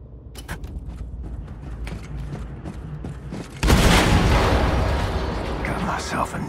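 An explosion in the video game Wolfenstein II: The New Colossus: after creaking mechanical sounds over steady background noise, a sudden loud blast erupts and its rumbling roar stays heavy to the end.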